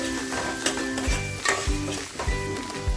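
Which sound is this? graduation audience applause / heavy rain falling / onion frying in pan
onion frying in pan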